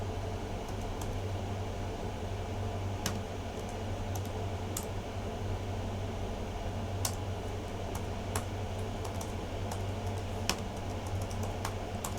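Code is typed on a computer keyboard in scattered, faint clicks and bursts of keystrokes over a steady low fan hum.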